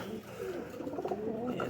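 Kasuri high flyer pigeons cooing in a cage, soft repeated coos against a constant background, with a voice speaking nearby.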